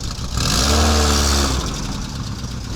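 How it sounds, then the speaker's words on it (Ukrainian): A car engine revs up loud and close, climbing in pitch and then easing back down toward a rough idle, with no voices over it. "хай дасть газу трохи"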